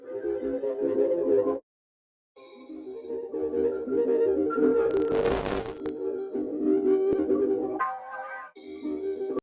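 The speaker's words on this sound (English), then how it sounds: "I got this final kind of like textural, like swelling kind of melody" Swelling, textural synth melody sample in a smooth R&B style: soft sustained tones rise and fall, with a short gap of silence, a brief noisy swell in the middle and bright high tones near the end.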